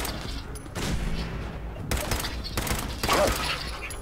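Bursts of rapid gunfire from Fallout 4, loud and close, with brief pauses between volleys and a sharp crack near the end.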